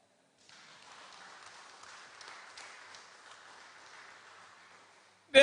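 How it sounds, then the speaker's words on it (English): Applause from the audience at a Democratic Labour Party conference rally, a faint, distant, even patter of clapping that runs steadily after a short silence and ends with a sudden loud thump. "you can clap for that"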